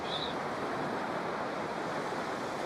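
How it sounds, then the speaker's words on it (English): Ocean waves wash steadily onto a beach in a continuous, fairly loud surf roar mixed with wind, with no distinct breaks. "You follow for a breath, then return to the breathing field of waves."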